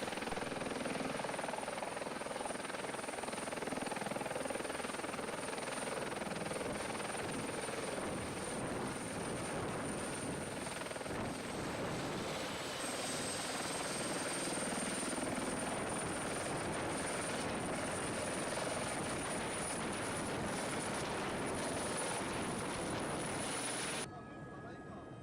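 Helicopter flying near Kebnekaise, Sweden's highest mountain: a loud, steady rotor thrum and whine runs throughout, close and dominant, with no speech over it.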